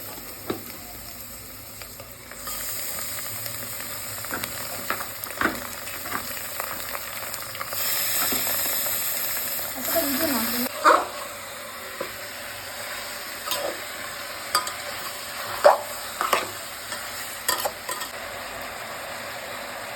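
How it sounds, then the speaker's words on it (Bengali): Mutton frying and being stirred in a pan with reddish-fried onions and chilli, a steady moderate sizzle with occasional clinks and scrapes of stirring, close and alone without talk. "আমার পেঁয়াজটা লাল লাল করে ভাজা হয়ে গেছে,"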